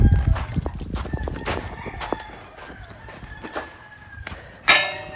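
A horse pushes through a gate whose lock is broken, with scattered hoof knocks and clunks followed by a sharp metallic bang near the end, while fowl cluck and crow in the background.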